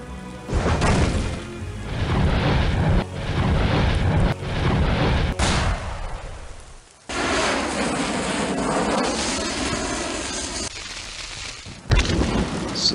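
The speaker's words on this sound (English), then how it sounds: "This is the perfect opportunity to use a pair of mangonel. So let the bombardment begin." Mangonel catapults and a bombard pound a castle in a huge Teutonic siege in Medieval II Total War. Loud, overlapping booms, crashes and rumbles run almost without pause, with a brief drop before a heavy renewed roar and a late sharp hit.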